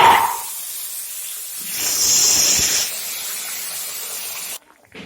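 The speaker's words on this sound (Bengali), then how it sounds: "এখন আমি দিয়ে দেবো জল।" Water poured into a hot pan of fried cumin powder and vegetables (potato, eggplant, carrot) for a fish curry, a brief clatter and then a loud hissing burst of steam that settles into a steady simmering hiss and cuts off abruptly.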